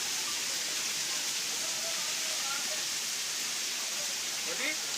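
A small waterfall spills over a Shiva lingam inside a cave shrine, giving a steady, dense rushing hiss of falling water that holds constant from start to end, with faint chirps drifting through.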